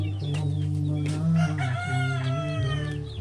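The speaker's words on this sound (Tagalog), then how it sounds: "Dito ko nilipat yung mga manok." Chickens close by cluck and crow without a break, with layered, overlapping calls and a drawn-out crow running through the middle, loud and busy.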